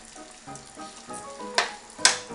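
Rabbit pieces with garlic and herbs fry over lowered heat in a pan, giving a soft steady sizzle with a couple of louder crackling bursts near the end, close by and with no one speaking.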